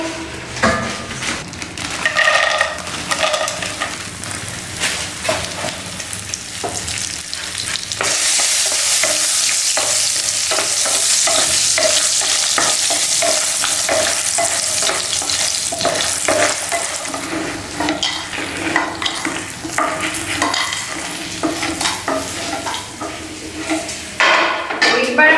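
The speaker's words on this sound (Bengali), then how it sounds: "তো তেলটা দিয়ে আমি বড়িগুলো ভেজে নেব।" Lentil dumplings (bori) fry in a generous amount of hot oil with vegetables, a loud steady sizzle that swells partway through, mixed with clinks and scrapes of utensils against the pan; close, with little or no talk.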